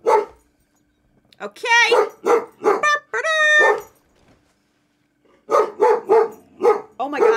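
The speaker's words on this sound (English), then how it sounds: "Sorry about the dogs." A dog barks and whines in a few short harmonic bursts between stretches of a person talking during a live game stream.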